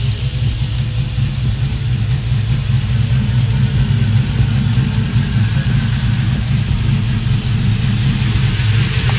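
A short bed truck with an LS engine and a manual transmission idles steadily and close by, a loud continuous low rumble with no voices over it.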